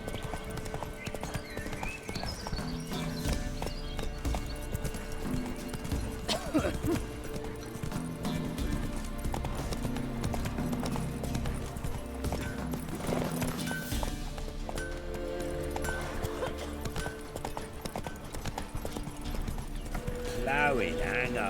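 Horse hooves clip-clopping at a run in The Witcher 3: Wild Hunt, a steady rhythmic gait over game music with occasional neighs and a voice speaking on top.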